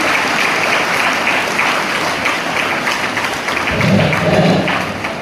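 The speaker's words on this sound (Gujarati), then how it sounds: "આપણે સૌ એમનું તાળીઓના ગડગડાટથી સ્વાગત કરીશું" An audience at a school farewell applauds to welcome a retiring teacher. The clapping is loud, dense and sustained, like a roomful of hands, with a few dull thumps near the end.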